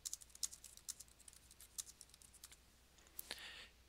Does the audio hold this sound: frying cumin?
no